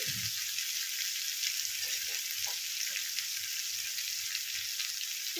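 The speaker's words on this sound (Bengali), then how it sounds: "কিছুক্ষণ ভেজে নিয়েছি" Bottle gourd frying in a covered pan gives a steady, close sizzle that runs evenly throughout, with a few soft low knocks beneath it.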